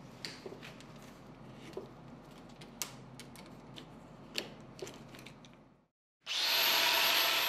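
A grinding wheel deburring the freshly cut end of a steel pipe roars in loudly and steadily for the final second, after several seconds of faint ticking and clicking and a brief silence.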